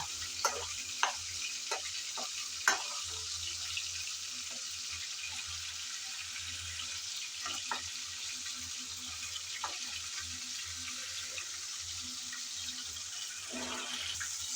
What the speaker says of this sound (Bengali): আমি হালকা করে উল্টিয়ে পাল্টিয়ে নেড়ে চেড়ে বেজে নিলাম